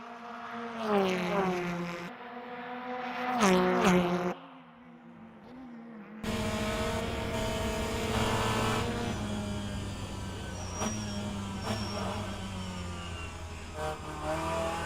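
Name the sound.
BMW race cars racing on road course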